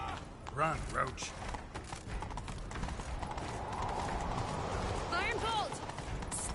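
A horse gallops in The Witcher 3 with a continuous rhythmic clip-clop of hooves, close and steady, under in-game voices and background ambience.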